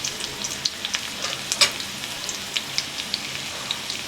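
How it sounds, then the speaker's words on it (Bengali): Potatoes with ground spice paste frying in a pan: a steady close sizzle with small crackles and pops throughout, one louder spatter burst near the middle. "আলুগুলো আমি লাল লাল করে ভেজে নেব।"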